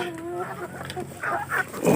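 Chickens cluck and squawk close by at feeding time in a backyard, in short, overlapping bursts, with some brief scuffling and rustling among them.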